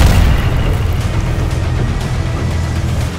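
A Merkava tank firing a shell amid ruins in Gaza produces a heavy, low booming rumble that fills the whole stretch, loud and sustained with a slowly decaying roar and no voices.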